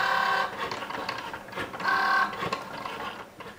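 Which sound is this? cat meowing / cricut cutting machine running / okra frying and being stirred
cricut cutting machine running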